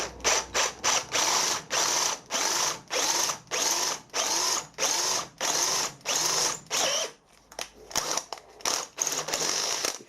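A power drill boring a hole freehand before thread tapping, heard as a series of short, loud whirring bursts with brief pauses between, close and alone without talk.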